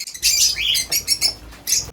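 Lovebirds in a colony chirp and squawk in loud, rapid bursts while being caught one by one, with a brief flutter of wings among the calls.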